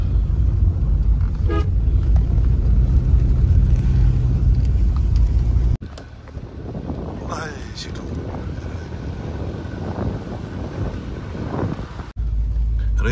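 A small car drives along a mountain road near Darjeeling, its engine droning steadily with rushing wind, a horn toot and faint voices over the noise.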